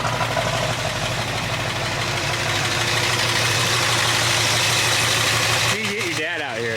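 A farm truck with new dual exhaust idles, a low continuous rumble with a deep throaty exhaust tone and slight irregular knocking, close by; near the end the pitch wavers briefly.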